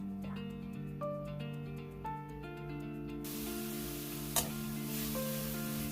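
Dried pollack stir-fries in perilla oil in a big pot, a broad steady sizzle that starts partway through and runs on under soft tonal background music.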